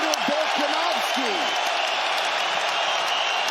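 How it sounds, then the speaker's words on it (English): After a UFC fight in Perth, Western Australia, a capacity arena crowd gives a standing ovation, loud sustained applause and cheering, with a commentator talking over it. "A standing ovation from the capacity crowd in Perth, Western Australia"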